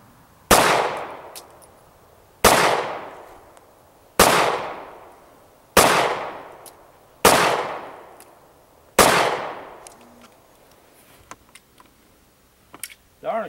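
Six sharp pistol shots from a Taurus 709 Slim fired at a 7-yard target, evenly spaced about two seconds apart, each a loud crack with a decaying ring, followed by a few faint clicks and handling noises.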